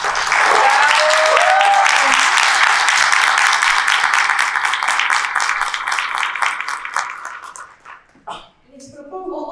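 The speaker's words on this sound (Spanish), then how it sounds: "¿qué les parece si le damos un aplauso a nuestras 3 primeros escritores?" The first three writers receive applause from the audience at the FIL 2025 book fair presentation "Empodera tus palabras", a loud dense wash of clapping and cheering that holds for several seconds, then fades into scattered claps and voices.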